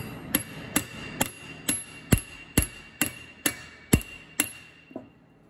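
A bolt taps on a tractor rear axle part during disassembly of an Allis Chalmers WD, giving eleven sharp metallic knocks at an even pace of roughly two per second, close and clear with nothing else over them.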